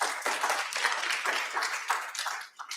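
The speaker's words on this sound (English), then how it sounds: "If you save it all for the end, you can applaud louder." Audience at a San Francisco congressional candidate forum breaks into clapping, a dense, steady patter of many hands filling the whole stretch at moderate loudness with no talk over it.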